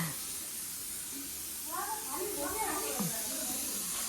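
A steady loud hiss of steam from a pressure cooker cooking chickpeas fills the background while someone talks over it.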